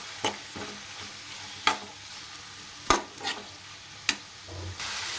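Curry leaves fry in a pan for a tomato egg curry, with steady sizzling and several sharp clinks of a spoon stirring against the pan; no one speaks.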